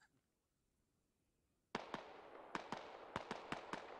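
Gunfire in the Squad military shooter game: after quiet, a string of about eight sharp, loud shots rings out in an uneven rhythm, with no talking over them.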